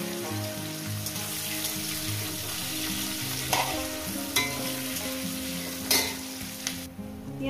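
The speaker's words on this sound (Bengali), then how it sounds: "পেঁয়াজটাকে আমি অনেক ভেজে নেব।" Onions with green chillies fry in salted oil in a pan, a constant crackling sizzle punctuated by a few sharper scrapes and clinks of stirring, close and steady with no talk.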